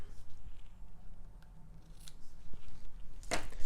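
Scissors cut ribbon for a scarf on a small snowman treat box: a few faint snips, then one crisp, close cut near the end.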